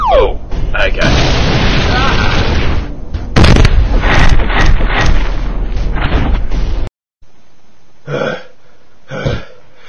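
A cartoon cannon fires into a horde of zombies, with loud rumbling, booming blasts and chaotic noise running for several seconds, then a sudden cutoff followed by a couple of short bursts, all mixed with animated voices.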